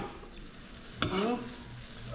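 Oil sizzles softly in a pan as fish fries, then a sudden clatter and a louder hiss as something is turned or dropped into it.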